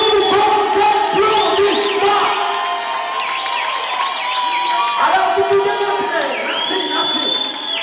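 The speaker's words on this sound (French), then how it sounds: "Il s'agit de Marcel Kalombo, que je vais demander de s'élever sous vos applaudissements." Wedding guests at a Congolese religious wedding ceremony in Pontoise applaud and cheer loudly as the groom rises, with continuous clapping, shouts and ululating voices, and music and crowd noise blending in.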